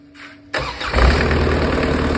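A Mercedes OM601 2.3-litre diesel driving an irrigation water pump cranks briefly and fires up, settling into a loud, steady diesel clatter close by.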